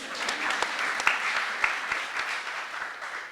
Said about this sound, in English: we'll give him a round of applause for thinking about us